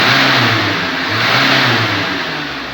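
A car with a worn-out engine, oil short and piston rings burning oil into the exhaust from overheating, revs steadily and loudly up and down close by, a rough mid-pitched drone with no talk.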